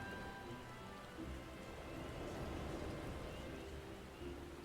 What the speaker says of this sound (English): is it really raining in Ul'dah too?